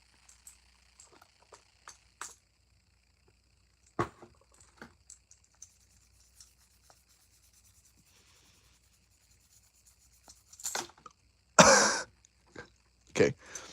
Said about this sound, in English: I keep coughing, guys.